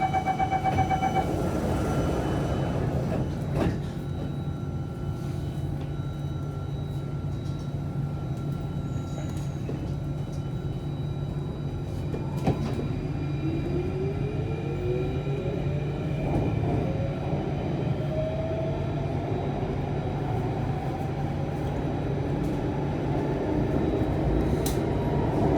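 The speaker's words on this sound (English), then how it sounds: "Doors are closing." SMRT Alstom C8 train on the Circle Line in Singapore: the doors close, then the train departs with a steady rumble and a rising motor whine as it pulls away, continuous throughout.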